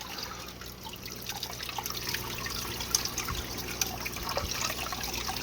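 Water trickles and splashes steadily in a home fish-room aquarium after the filter intake pump has been cleaned, a continuous close flow with small drips and gurgles over a low background hum.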